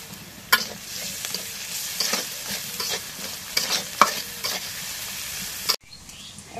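Chopped garlic frying in a pan with onion and chili for red amaranth greens, a close steady sizzle broken by repeated spatula scrapes and knocks, ending abruptly in a quieter tail.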